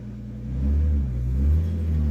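1991 Nissan Skyline engine rumbling as the car pulls forward in first gear, a close deep idle that swells twice with light throttle, steady and alone without talk.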